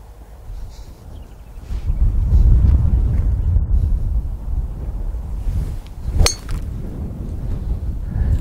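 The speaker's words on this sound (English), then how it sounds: "The wind is into us, but it's this way." Wind buffets a microphone outdoors on a golf course near an out-of-bounds fence, a steady low rumble that swells and holds loud, with a brief sharp clink partway through.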